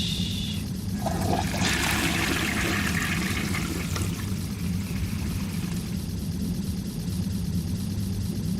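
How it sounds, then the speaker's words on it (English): A toilet flushes in the game Harold Halibut, with a rushing burst of water that tapers into a trickle over several seconds against a steady low mechanical hum. "I need a flush sound."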